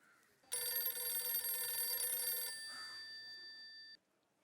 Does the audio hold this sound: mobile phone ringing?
yes